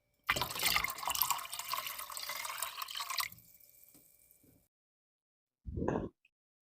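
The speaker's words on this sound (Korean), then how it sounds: "이렇게 먼저 녹인 후에 물에 넣고 저어주면 됩니다" Dissolved organic insecticide is mixed into water, with about three seconds of close splashing and pouring that thins to a soft trickle and then goes quiet before one short final splash.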